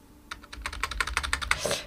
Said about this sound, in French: je peux saisir ma date directement donc au clavier